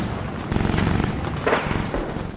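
A recoilless gun crew fires on Pakistani tanks in a 1971 war battle. Heavy booming blasts and rumbling detonations overlap in a dense, loud barrage with a sharper burst near the middle, and no speech.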